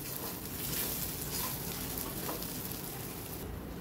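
Poppy seeds and sesame seeds fry and crackle in a hot pan for a Maharashtrian sambharwadi snack, a steady close sizzle with soft stirring and no talking.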